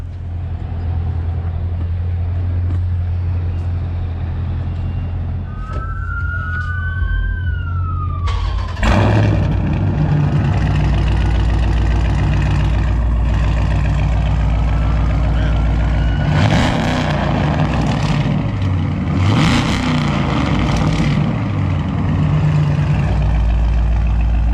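Dodge Charger Scat Pack with a 392 engine running E85 and a catless exhaust, a loud deep idle rumble that swells into harsh revs, while a siren-like whine sweeps past and voices talk faintly.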